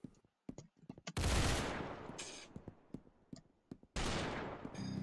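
In the Roblox game Arsenal, scattered close gunshots pop irregularly, broken by two loud sustained bursts of automatic fire, each lasting about a second.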